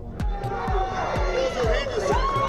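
A basketball game crowd roars and cheers continuously in a large arena, with repeated sharp thuds and squeaks over the sustained noise.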